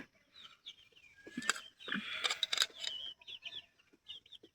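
Chickens clucking in a rural village yard beside an outdoor wood-fired stove, a series of short calls and clucks at moderate distance, with brief louder bursts in the middle and no talking.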